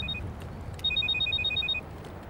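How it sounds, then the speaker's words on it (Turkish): A telephone rings indoors with a quick electronic trill, one short burst followed by a longer string of rapid pulses, clear and moderately loud over a quiet room background. "Mehmet telefon çalıyor. Telefon çalıyor canım."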